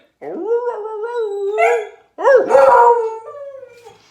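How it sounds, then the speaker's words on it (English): A dog howls in two long, wavering drawn-out notes, close and fairly loud, with a short pause between them. "That was my dog, Kevin."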